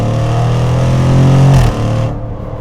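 A 2025 Jaguar F-Pace SVR V8 revs hard up close, its deep throaty roar climbing then cutting off sharply, followed by a lower burbling idle as the note settles.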